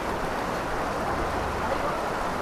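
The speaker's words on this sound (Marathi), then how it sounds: "अजून खूप जोरात पाऊस येते अजून पण." Heavy monsoon rain pours down steadily over a flooded street, a dense, even hiss with no breaks, fairly loud and constant.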